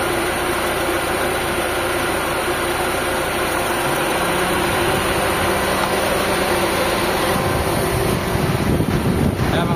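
A car radiator fan running on a Mitsubishi Lancer being checked for high pressure in the aircon line, a steady whooshing whir that thickens and grows louder toward the end, continuous and close.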